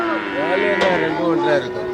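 Cattle low in a long, close moo at a busy village cattle market in Tamil Nadu, with voices chattering in the background.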